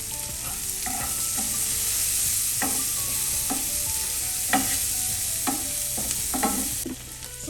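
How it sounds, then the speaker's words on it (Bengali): Onion, green chili and garlic fry in hot oil for an egg masala-style dish, giving a steady close sizzle broken by repeated scraping stirs of a spatula against the pan. "আমি সুন্দর মতো এগুলোকে এখন ডিপ ফ্রাই করে নিব"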